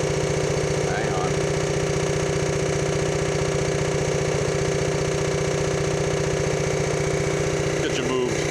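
Honda GX140 gas engine on an air compressor idling, a steady close-up rhythmic putter with an even low pulse throughout, briefly joined by faint rattles near the start and end.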